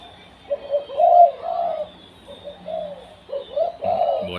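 A decoy dove kept for calling coos loudly and close by in a series of soft, rounded phrases separated by short pauses. The calls carry clearly over a quiet background.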